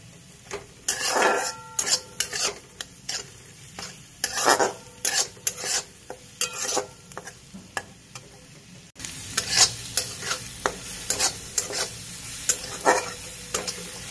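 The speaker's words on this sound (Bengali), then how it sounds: "দেখো আমার রসুনটা ভাজা ভাজা হয়ে গেছে বাটারে" Two large bulbs' worth of garlic fry in plenty of butter in a pan, with a steady close sizzle broken by repeated scraping and clinking as a spatula stirs the pan.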